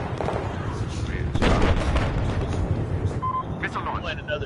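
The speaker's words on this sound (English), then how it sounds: "Missile launch." In Battlefield 4 gameplay, a missile launches with a loud, booming rumble amid scattered gunfire and game noise. A voice talks over the action.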